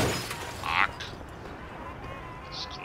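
Glass shatters in the Mafia video game, a brief bright burst early on followed by a second smaller crack, set against a steady low game-engine hum with no other clear events.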